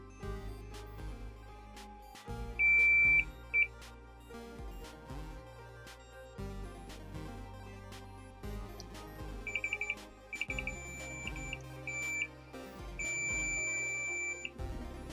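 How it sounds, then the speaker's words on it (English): Steady high electronic beeps from a multimeter in continuity mode, a few short ones then longer sustained tones, sounding over background music. "put this in my multimeter in continuity mode so you can hear the"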